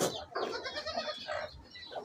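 Goats bleat on a Telugu goat farm, several wavering calls in quick succession at close range, with no talk over them.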